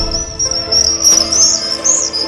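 Small birds chirping around a nest in a tree, a steady run of thin, high tweets with a faint insect-like buzz beneath, fairly close and continuous throughout.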